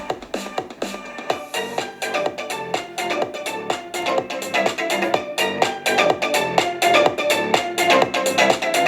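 Music with a steady, punchy beat plays through the small built-in speakers of an ASUS TUF Gaming A16 laptop, rhythmic hits repeating throughout at a moderate, even level.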